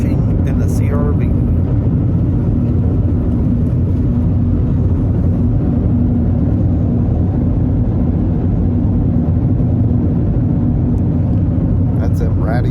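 Freight train of old box cars rolling past, a steady loud low rumble that fills the whole stretch with continuous rolling noise and no clear breaks.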